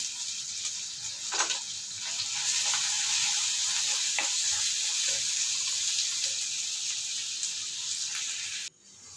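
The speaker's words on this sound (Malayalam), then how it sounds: "കുറച്ച് ഉപ്പും കൂടെ ഇട്ട് കൊടുത്തിട്ട് ഒന്നും കൂടെ വഴറ്റിയെടുക്കുക" Fish masala with salt being sautéed in a pan, a dense steady sizzle with occasional stirring scrapes and taps, cutting off abruptly just before the end.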